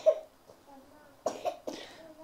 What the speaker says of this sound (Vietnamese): Đấy, đang bị ho các bác ạ